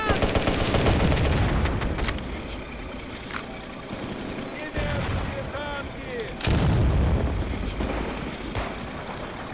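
Tank cannon and machine gun fire in the tank combat game Steel Fury with a BT-5 Mod. 39: rapid loud automatic bursts and heavy blasts over a rumbling engine, with someone speaking in between.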